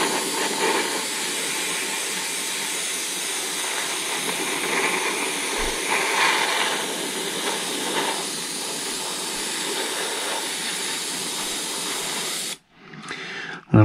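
Aerosol spray paint hisses steadily in light coats onto a Kyosho Pegasus RC car body, a continuous close airy rush lasting about twelve seconds before cutting off abruptly.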